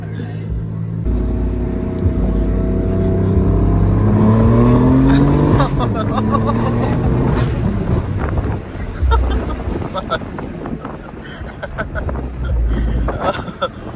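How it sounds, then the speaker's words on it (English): A BMW engine revs and rumbles at a large BMW car meet, with wind buffeting the microphone, followed by sharp exhaust pops and crackles; voices talk intermittently over it. "all the pops and bangs could sound so annoying to somebody outside it"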